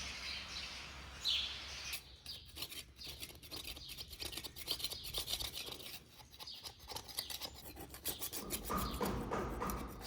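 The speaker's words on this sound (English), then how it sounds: "Here you can see the residue left behind from the gasket. I'll need to scrape that all off." A putty knife scrapes gasket residue off the engine block of an IH 1066 tractor in repeated, close, rasping strokes, with birds chirping faintly in the background.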